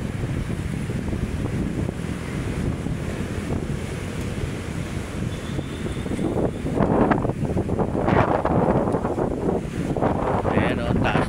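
Strong wind and high waves churn on Manila Bay, a loud continuous roar of surf and buffeting wind noise that swells in bursts toward the end, with a voice talking over it.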